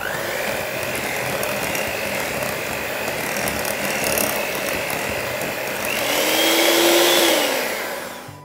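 Finely ground chocolate is being mixed into soufflé batter with a whisk, heard as a steady motorized whirring that swells near the end as the mixer pitch rises.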